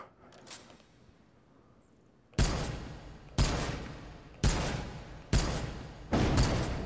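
Five loud, close M1 Garand rifle shots fired one by one at roughly one-second intervals inside a VR shooting game, each a sharp crack with a short decaying tail, after a quieter stretch of faint rustling.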